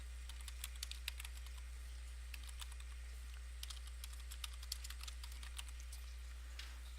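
Quick, light clicks of typing on a computer keyboard, irregular bursts of keystrokes at close range over a faint steady low hum, with no voices.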